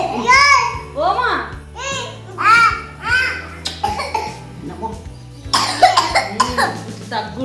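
A child coughs repeatedly in short bursts, close and loud, with adults talking around them in a home setting.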